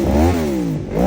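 A 2011 Yamaha R1 skull edition motorcycle with a Jardine RT5 exhaust revs up and down, a loud close engine note that climbs, dips briefly and rises again.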